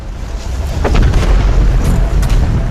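Asteroid impact explosion and shock wave from the strike that ended the dinosaurs: a deep, sustained rumbling roar with a few rolling booms swelling over it, loud and continuous.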